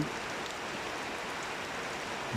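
Steady night rain falls in a rural union of Kashiani, Gopalganj, an even, continuous hiss that stays unchanged throughout, with no voices.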